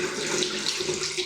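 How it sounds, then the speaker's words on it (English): A bathroom tap runs at full pressure into a basin in a holiday-park bathroom, a brief, close, steady hiss of rushing water with no talking. "Let's check the water pressure."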